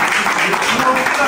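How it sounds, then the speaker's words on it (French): Audience applause at a street fashion contest in Pointe-Noire, Congo, a broad steady wash of clapping with voices and cheering mixed in throughout. "Applaudissez mon gars."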